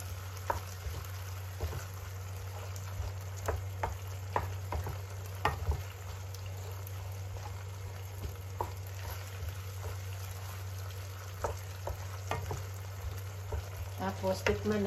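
Escabeche sauce sizzles in a frying pan for fish escabeche as a spoon stirs it, quiet steady crackle with scattered scraping clicks over a low electrical hum, a faint voice occasionally present.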